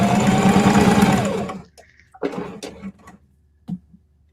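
A sewing machine stitching jelly roll fabric strips whirs loudly and steadily up close for about a second and a half, then stops, followed by a few short clicks and mechanical knocks.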